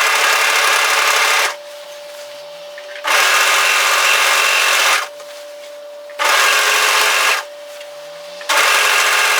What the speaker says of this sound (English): overlocker and overlock the edge tidy